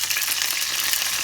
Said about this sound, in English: And the grease is ready.